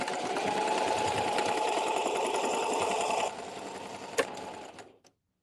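A sewing machine stitches in a fast steady whir for about three seconds, then slows, gives a sharp click and winds down to silence.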